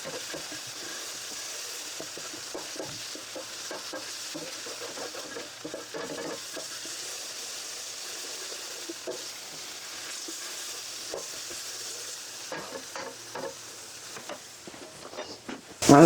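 Onions frying in avocado oil in a pan give a steady, soft sizzle with intermittent scrapes and stirring clicks, close up and unbroken by talk.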